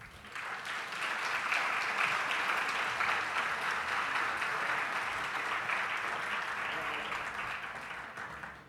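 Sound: audience applause for the UNED percussion ensemble

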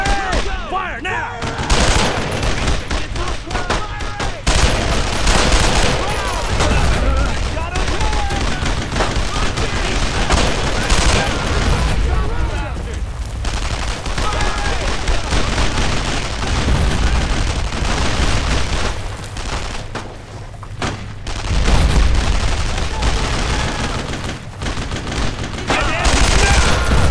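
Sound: gunfire in video game Brothers in Arms: Road to Hill 30

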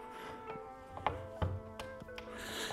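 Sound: loosening the propeller's center bolt

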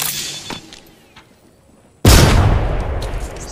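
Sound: gunfire in Apex Legends video game

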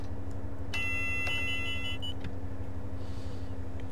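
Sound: alarm warning beeps in Train Simulator 2014 video game

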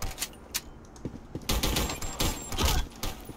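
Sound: gunfire in the video game Black Squad

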